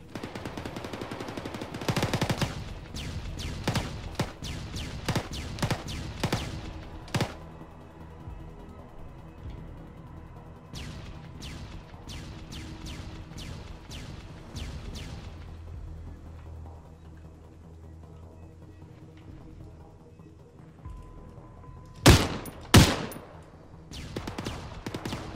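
Gunfire in the military video game ArmA 3: bursts of rapid automatic shots in the first seconds, then a quieter stretch, more scattered bursts, and two loud sharp single shots near the end.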